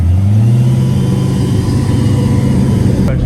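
A drag race car with a new Vortech supercharger setup idles unusually high at the drag strip, a loud, steady, close engine drone with a slight pitch drop near the start and no talking.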